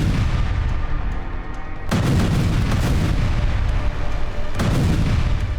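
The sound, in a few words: explosion destroying a Hezbollah training base building in Lebanon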